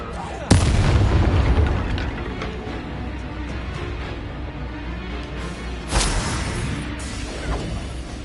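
Confringo fire spells explode during a Hogwarts Legacy duel: a sharp loud blast, a rumbling stretch, then a second sudden explosion near the end, with faint talk from characters underneath.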